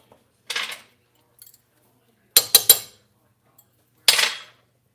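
A spoon strikes and scrapes the inside of a mug of hot cocoa in short, separate bursts: one clatter, a quick run of three knocks, then a final scrape, with silence between them.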